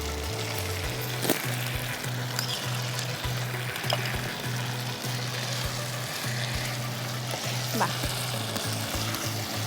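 Paneer sizzling in a pan for navratan korma, steady loud frying hiss with periodic clatters of stirring, and a brief spoken word over it.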